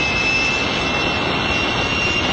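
A Gloster Meteor-era jet fighter engine roars steadily and loudly, a dense, unbroken rushing drone with a faint high whine running through it.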